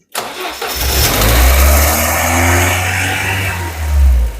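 A Ford Sierra Cosworth 3-door is started in a workshop: a short crank catches into a loud, close engine that settles into a rough, wavering idle with a small rev at the end.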